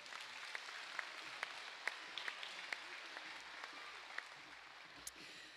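Faint, distant applause from an audience at a secondary school awards and graduation ceremony, with a few sharper individual claps standing out from the soft wash.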